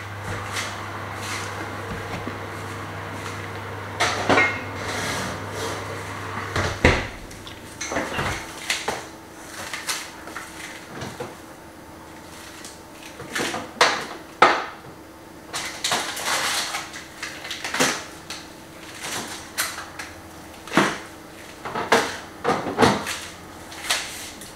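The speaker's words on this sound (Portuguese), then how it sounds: "Agora vou tapar e colocar dentro do forno 30 minutos, tacho tapado" A lidded cooking pot goes into a home kitchen oven, with scattered clattering knocks, metallic clinks and a few sharp thuds like an oven or cupboard door shutting, close and moderately loud.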